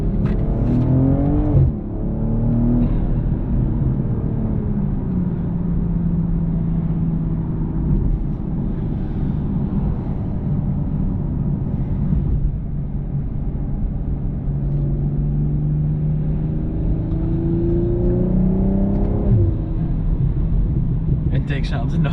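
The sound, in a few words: BMW M240i G42 intake sound while accelerating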